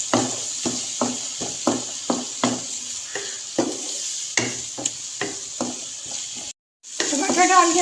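Chopped tomato and spices fry in a pan under a steady hiss, with a regular series of sharp spoon scrapes and knocks against the pan, a brief cutout near the end, then louder sizzling.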